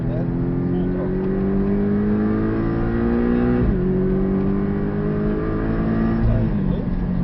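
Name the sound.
Porsche 718 engine at full throttle on track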